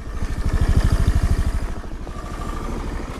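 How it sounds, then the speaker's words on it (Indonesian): A small scooter engine idles close by with a rapid, chugging putter that pulses loudly at first and then settles into a softer, steady rumble. "Suaranya mesinnya ini sedang saya nyalakan. Posisi diam kayak gini."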